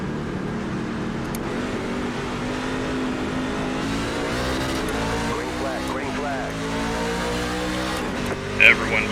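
Race car engines in an iRacing NASCAR Truck Series game at Indianapolis Raceway Park rise together at the green-flag start. A dense, steady roar climbs in pitch as the field accelerates, with a voice talking over it.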